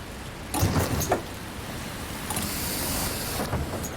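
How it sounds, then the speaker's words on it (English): Steady rain hiss from the bus-driving video game The Bus, a dense broadband wash running throughout with a few duller knocks and thumps near the start, no voices. "Let's hop in and get out of the rain."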